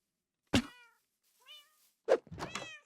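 A cat in a video game meows several times in short, separated calls, one with a soft thunk at its onset, quiet and close with silence between.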